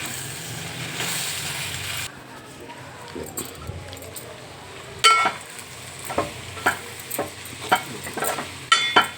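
Chili powder frying in a pan for a raw cashew curry, with a steady sizzle broken by sharp scraping clicks of a spoon stirring against the metal, growing busier toward the end.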